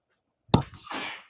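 Someone sneezes once in a math classroom, a sudden sharp burst followed by a brief breathy trailing exhale, fairly close and alone.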